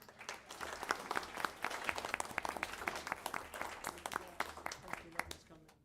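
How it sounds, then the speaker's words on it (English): A crowd at a school board meeting applauds the athletic director with a steady, dense patter of many hands clapping at moderate loudness, lasting the whole stretch. "could we give a big round of applause for our athletic director?"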